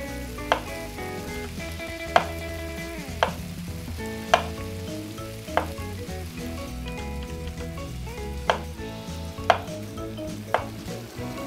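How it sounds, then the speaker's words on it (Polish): Potatoes are cut into sticks in the Cooking Simulator video game, with crisp knife chops landing roughly once a second over a continuous background sizzle of frying food. "To teraz kroję w słupki."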